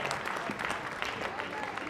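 An audience at a movement-building event gives a round of applause, a dense, steady patter of many hands clapping throughout at moderate volume with no clear voices above it.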